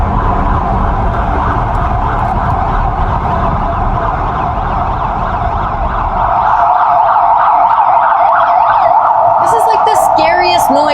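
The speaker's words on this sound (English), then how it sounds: "Like, why a super loud police siren?" A loud police siren wails steadily with rising and falling tones, echoing heavily inside a road tunnel in China, over a low traffic rumble.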